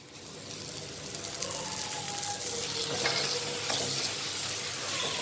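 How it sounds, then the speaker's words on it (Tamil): Tomatoes sautéing in oil in a pan for a mixed vegetable gravy, a steady close sizzle with stirring scrapes throughout, no voices. "தக்காளி வந்து நல்லா கேரமலைஸ் ஆகிற வரைக்கும் வதக்கிக்கோங்க"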